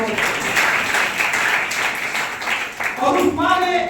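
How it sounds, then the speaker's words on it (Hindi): Audience applause at a talk on educating daughters, a steady mass of clapping with a voice rising over it near the end. "उस मां के लिए एक बार जोरदार तालियों से उस मां के लिए"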